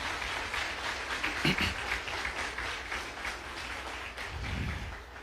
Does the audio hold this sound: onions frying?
no